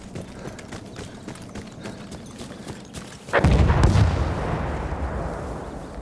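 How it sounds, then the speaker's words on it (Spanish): Battlefield 1 gunfire on Xbox One: a low rumble of distant shots builds to a sudden heavy boom, then a loud, sustained roar of rapid fire and explosions. "¿Alguien está disparando por aquí?"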